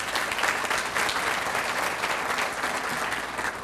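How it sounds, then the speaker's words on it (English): An audience applauds a teacher at a school district event, dense, steady clapping filling the hall at close range throughout. "Give her a round of applause."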